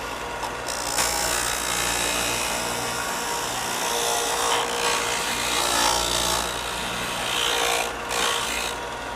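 A SKIL BB9504 belt and disc combination sander grinds a piece of wood against its disc, giving a loud, steady abrasive roar with a constant motor drone throughout and slight swells in intensity.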